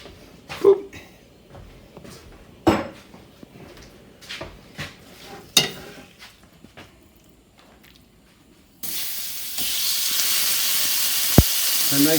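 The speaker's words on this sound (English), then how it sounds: "I'm going to steam that a little bit." Collard greens steam in a hot pan after veggie stock is poured in, first a few sharp clatters and knocks, then a sudden loud, steady hiss that keeps building.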